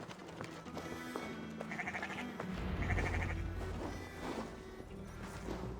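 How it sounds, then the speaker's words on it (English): Sheep bleat in Assassin's Creed Valhalla, a few short wavering calls heard over a rumbling game background with scattered knocks and movement, moderately close, with no talk. "Second sheep's a little slow, keeping up."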